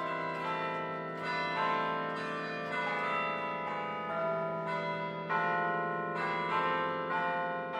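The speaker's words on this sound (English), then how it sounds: "These bells were installed in 1984, and for many years prior to that, there had been no chimes at all in this tower." Church tower chime bells installed in 1984 ring a steady sequence of sustained, overlapping tones, their long ringing decay filling the space continuously with no voices.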